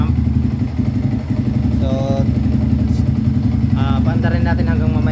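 Car engine idling steadily after a water pump repair kit replacement, a continuous low hum with light clatter, close by, while someone talks over it intermittently.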